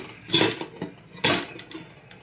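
A metal cake tin is set down into a heated pressure cooker on its stand, making two distinct nearby clanks of metal on metal with a little rattling between them.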